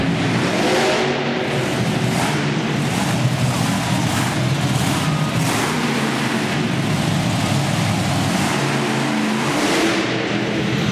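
A monster truck's engine roars and revs continuously during a freestyle run at a Toughest Monster Truck event in Youngstown, Ohio, loud and close, with rising and falling throttle over a dense mechanical drone.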